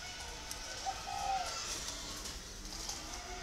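A spotted dove in a cage gives a soft, brief coo over quiet background noise, with the camera close to the cage.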